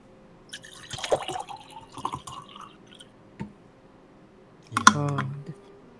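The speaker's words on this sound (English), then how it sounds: "Oh, hear this delicious water pouring." Water from a jug pours and splashes briefly into a container, with scattered clicks and handling noise beforehand.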